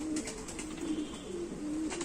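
A prized racing pigeon coos in a series of low soft repeated phrases, close by, over a faint hiss of background noise and no talk.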